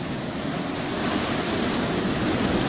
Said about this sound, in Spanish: con este oleaje, mira esto, tío